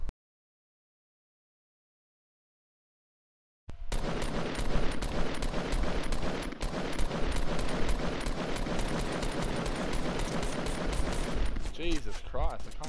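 After a few seconds of silence, Fortnite Battle Royale gunfire bursts in and runs as rapid, continuous, loud automatic shots until near the end.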